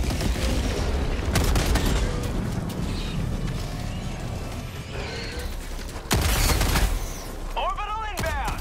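Explosions and gunfire from an Eagle air support strike in the game Helldivers 2, fighting bugs: loud, dense rumbling blasts with a fresh burst near the six-second mark, plus whistling game effects toward the end and voice chatter.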